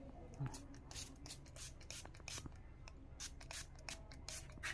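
A room freshener gives a rapid series of short, faint hissing sprays, one after another.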